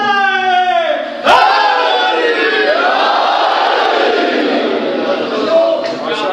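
A crowd at a Muharram religious gathering chants slogans in unison, a loud sustained collective voicing with a sharp accent near the start, filling the space without a single speaker standing out.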